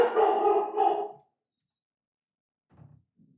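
A dog gives a couple of loud, close barks, then silence, followed by faint low rumbling sounds.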